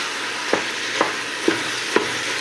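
Two pounds of ground bison sizzle loudly in a pan for chili while a spatula breaks up the meat in four regular, firm scraping strokes, close up with no speech.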